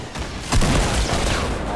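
A single sharp Fortnite gunshot bursts out loud and close, followed by a short rumbling echo under faint background game noise.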